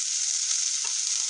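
Chopped onions fry in a pan with a continuous, even hiss of hot oil, close and moderately loud, with a faint stir partway through.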